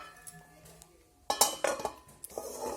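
Metal lid set onto a cooking pot of spinach kadhi on a gas stove, a few close clanks and clinks of metal on metal after a quiet moment.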